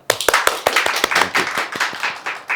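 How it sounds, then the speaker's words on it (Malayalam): An audience at a tech fest podcast claps steadily, dense overlapping handclaps with sharp individual claps standing out near the start, fairly loud and without speech. "ഒരു നിറഞ്ഞ കയ്യടി നമുക്ക് എല്ലാവർക്കും"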